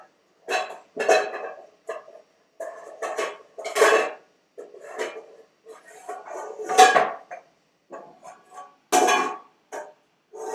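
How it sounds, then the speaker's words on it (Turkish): Dishes and cutlery clink and clatter while food is plated onto serving plates, with irregular bursts of scraping and knocking, close and fairly loud, without speech. "Şimdi servis tabaklarına alacağım."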